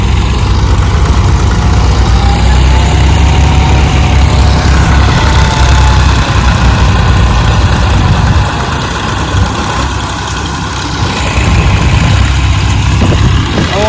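A tractor engine idles loud and close, a steady low rumble with constant vibration that holds evenly from start to finish.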